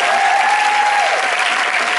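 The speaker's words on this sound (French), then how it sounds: "je voudrais que vous applaudissiez" A film premiere audience breaks into loud, dense applause, with many hands clapping steadily and close by for the whole stretch.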